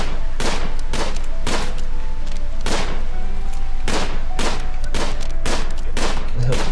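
Repeated loud gunshots from a RimWorld hunt for a hare, about a dozen sharp cracks in an uneven rhythm over steady background game audio, no talking.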